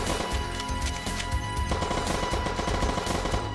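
Rapid machine-gun bursts from an enemy in the video game DooM, loud and close, dense repeated shots running continuously with other game sounds and no talking.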